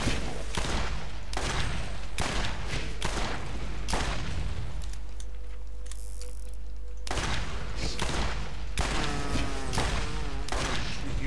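Continuous video game gunfire in Borderlands: loud, dense rapid-fire bursts in long stretches, broken by brief pauses and a short mechanical lull in the middle, with no voices.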